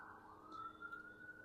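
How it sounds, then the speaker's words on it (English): Emergency vehicle sirens from passing ambulances and fire trucks wail steadily in the distance, a faint continuous tone over low background rumble. "How many ambulances and fire trucks or whatever are they needing for this occurrence?"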